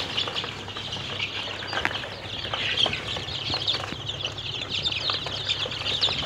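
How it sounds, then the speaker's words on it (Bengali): A crowded brood of about two hundred newly hatched Black Australorp and Egyptian Fayoumi chicks fills the space with continuous, dense high-pitched peeping and chirping, steady and close throughout, with no talking. "এই দুই জাতের মুরগি এখানে ফুটছে প্রায়"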